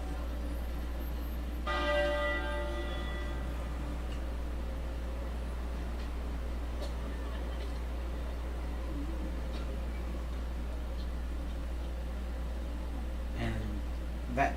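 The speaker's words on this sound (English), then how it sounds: "The tenor bell is the largest of the 10 bells and is traditionally tolled upon the death of a member of the royal family." A single deep tenor bell, the largest of a ring of ten, tolls once near the start and rings out with a long fading hum, followed by a quiet stretch with a low steady drone and a soft second strike near the end.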